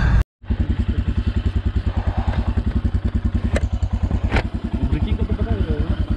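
A Royal Enfield Himalayan motorcycle engine warms up in extreme cold around minus nineteen degrees in Ladakh, a steady close thumping idle that runs unbroken after a brief starting gap.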